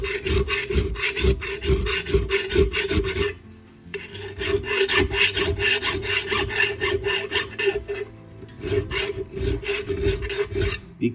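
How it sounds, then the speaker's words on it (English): An axe blade being sharpened with a single-cut bastard file, close and loud, in fast repeated rasping strokes with a brief pause near the four-second mark before the steady back-and-forth resumes. "Be careful when filing an axe."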